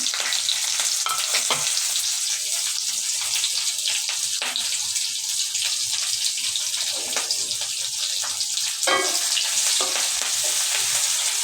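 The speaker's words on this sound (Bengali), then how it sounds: "এখানে আমি জাস্ট শুধু ভেজে নেব" Spices and ingredients for bhuna khichuri fry in a pan with a continuous loud sizzle, punctuated by occasional scraping and stirring clicks, close up and without talking.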